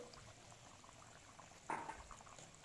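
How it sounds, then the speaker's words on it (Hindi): A glass of water is poured into keema and potatoes cooking in a kadhai, a brief splashing pour rising briefly above the quiet sizzle. "कीमे के अंदर हम 1 गिलास पानी पुट कर"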